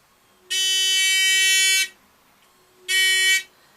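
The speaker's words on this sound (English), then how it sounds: "pull the buzzer slightly away from the base and it mutes the noise" A harsh electric bedroom buzzer sounds twice, a long steady blast of over a second followed by a shorter one, loud and close with quiet between.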